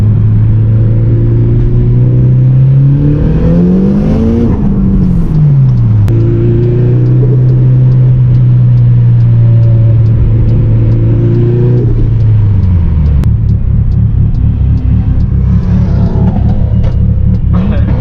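A fully forged 2.3-litre stroker Mitsubishi Evo with HKS 272 cams, making 450 hp on E85 at 26 psi boost, pulls hard from inside the cabin: a loud, steady engine drone rises through the revs, dips at gear changes and climbs again.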